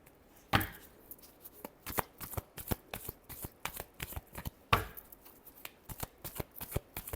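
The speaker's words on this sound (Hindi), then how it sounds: "Last shuffle." Tarot cards riffled and shuffled by hand, a quick run of crisp, close flicking snaps with two sharper bursts, set against a quiet room with no talk.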